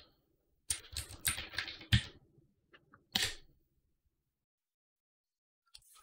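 Computer keyboard keys typed in a quick burst of clicks, then a single sharp keystroke after a pause, with a few faint taps at the end, close and fairly quiet with no talking.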